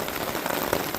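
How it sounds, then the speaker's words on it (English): Heavy rain pours down in a dense, unbroken roar of drops hitting surfaces, loud and steady with no voices. "It's raining so freaking hard."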